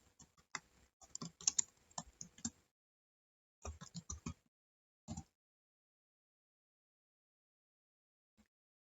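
Someone types a book title, Pengantar Akuntansi, on a computer keyboard into a search field: close, quiet clusters of rapid keystrokes, a pause, a shorter burst, a few last taps and one stray click in otherwise silent surroundings.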